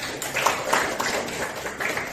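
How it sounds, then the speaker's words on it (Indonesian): A class of students claps together, a close burst of scattered hand claps that stays fairly even throughout. "Bapak apresiasi dan tepuk tangan buat kalian."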